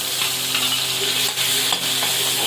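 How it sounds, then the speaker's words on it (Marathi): Steady, loud sizzling of food frying in a pan, with soft stirring scrapes now and then, close up. "बघा आता मी हे तळून घेणार आहे"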